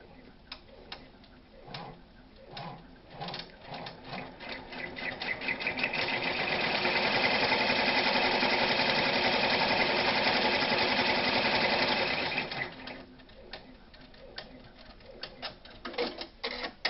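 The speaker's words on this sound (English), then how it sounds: "I'm going to run the placement stitch for this guy" A sewing machine runs a placement stitch on a small piece of purple fabric. A few slow ticking stitches build into a steady, close whir lasting several seconds, then fall back to scattered individual ticks.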